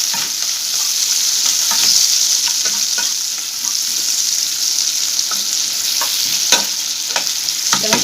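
Onions sizzling in hot oil for egg curry, a steady loud crackling fry with repeated scraping stirs of a spoon against the pan, no talking.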